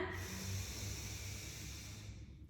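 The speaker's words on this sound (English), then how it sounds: "Listen to the sound of the breathing in" A long, steady breath drawn in, airy and hissing, close and fairly quiet, with no talking.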